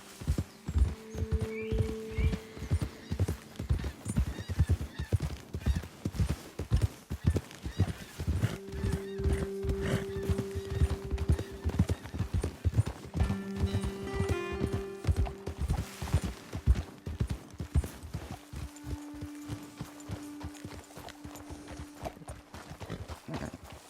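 Horses' hooves clip-clopping in a steady, busy rhythm throughout in the video game Red Dead Redemption 2, with several drawn-out whinnies rising over the hoofbeats.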